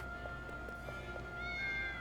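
A cat meows several times in Triangle Strategy, a short run of soft, mid-loud mews over steady game background music.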